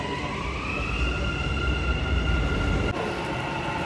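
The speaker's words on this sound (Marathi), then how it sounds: "सो मेट्रो येते, आता आम्ही निघतोय" A Dubai Metro train pulls into a station with a steady rumble and a high electric whine that rises slowly, loud and close, with no voices over it.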